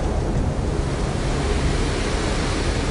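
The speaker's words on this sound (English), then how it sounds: "It's a weird thing being able to hear the waves but not see it yet." Ocean waves break at Jaws, heard as a continuous, even roar of surf with wind noise, steady and dense throughout, with no voices.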